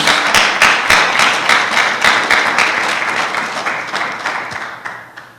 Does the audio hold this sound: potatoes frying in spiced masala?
no